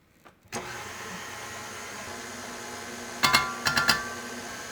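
A stand mixer fitted with a paddle starts up and churns dinner roll dough in a steady motor hum, with a few loud knocking thumps near the end as the dough slaps around the bowl.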